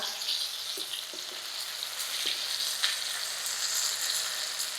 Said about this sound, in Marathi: अगदी मस्त फ्राय होतंय बघा